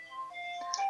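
Wireless video doorbell chime unit sounding its second selectable tone, a brief run of bright electronic chime notes under a second long, nearby and alone.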